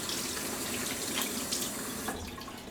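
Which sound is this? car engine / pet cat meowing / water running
water running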